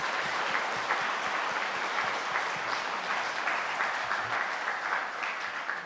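A church congregation claps at a 43rd anniversary worship service, dense sustained applause filling the room steadily from start to finish.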